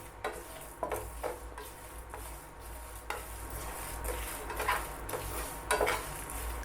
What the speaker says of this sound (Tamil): இப்போ இதெல்லாம் சேர்த்து நல்லா வறுத்துக்கோங்க.